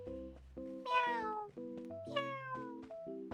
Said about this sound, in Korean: 어디서 고양이가 울고 있는데?